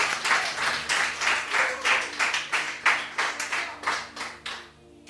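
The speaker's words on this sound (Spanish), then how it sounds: "denle un aplauso" A church congregation applauds during a Spanish-language sermon, clapping in a fairly rhythmic, pulsing pattern of roughly two claps per second before tapering off at the end.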